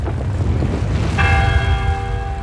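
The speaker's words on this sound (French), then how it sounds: "Le premier coup de cloche brise le silence glacé." A church bell strikes once, loud and close, its ringing tone sustaining and slowly fading over a deep, continuous low rumble.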